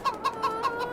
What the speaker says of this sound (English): they're just young chickens